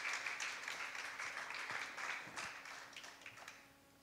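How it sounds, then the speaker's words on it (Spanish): Church congregation applauding during a sermon, a dense patter of many hands at moderate distance that holds steady and then thins toward the end. "Dale un aplauso al Señor"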